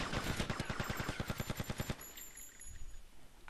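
Rapid automatic gunfire from a weapon in Grand Theft Auto Vice City, a loud, evenly spaced burst of shots lasting about two seconds that cuts off abruptly into quiet game ambience.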